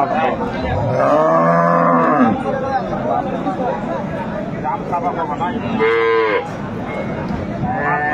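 At a busy rural cattle market in Dinajpur, dairy cows and calves give loud, drawn-out moos, one long low call early and another later, over constant crowd chatter and nearby talking.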